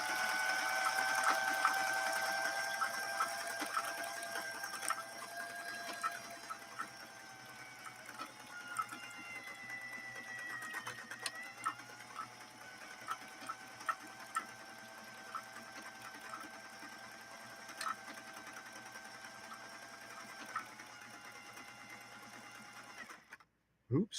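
A 1960s Singer 503A sewing machine stitches steadily at close range for most of the clip, its motor hum running continuously with small clicks and brief speed changes, then stops abruptly near the end.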